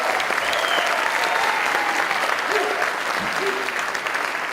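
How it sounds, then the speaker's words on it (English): A crowd claps steadily through a Harlem state of the state address by the New York governor, broad sustained applause filling the whole span at an even, fairly loud level. "Give him a round of applause."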